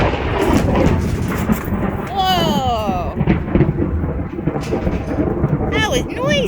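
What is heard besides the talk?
loud thunder during a storm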